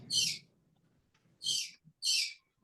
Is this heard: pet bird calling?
yes